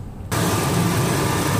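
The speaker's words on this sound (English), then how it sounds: "The engine is purring like a kitty." A car engine, running on a tank treated with lacquer thinner, settles into a loud, steady idle after an abrupt start, with a broadband hum continuing evenly and closely miked.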